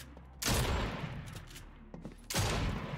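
Video game gunfire on an aim training course: two loud bursts of rapid shots, the first lasting over a second and the second starting near the end, with quiet gaps between and no talk.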